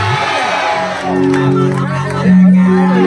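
Audience at a college annual function cheering and whooping loudly in welcome, a dense crowd roar that swells midway and grows louder near the end.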